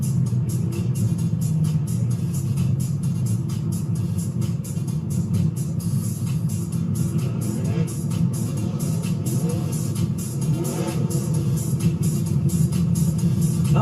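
Race cars roll to their starting spots behind a pace car before a heat race, with a continuous close engine rumble that swells into light revving.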